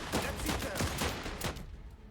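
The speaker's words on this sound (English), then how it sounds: "Everyone open fire" Rifle volley gunfire in the war strategy game Last Train Home, a rapid run of sharp, close shots in about a second and a half, then fading away, with no talk.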